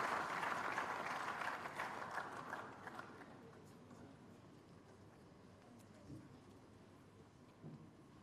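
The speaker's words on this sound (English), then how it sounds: "Please, a round of applause for our Chairman of our Council." Audience applause at a university convocation lecture, a broad wash of clapping that is loudest at the start and fades over several seconds into quieter hall ambience.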